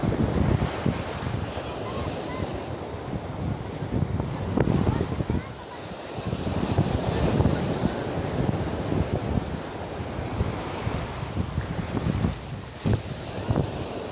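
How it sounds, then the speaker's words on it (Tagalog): Strong wind buffets the microphone in a steady roar, gusting louder at moments, with water washing in the background. "Hangin, mahangin."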